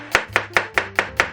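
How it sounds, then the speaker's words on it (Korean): A knife finely julienning an onion on a cutting board, six crisp, evenly spaced chops in a steady quick rhythm, close and clear with no talk. "먼저 양파는 가늘게 채를 썰어서"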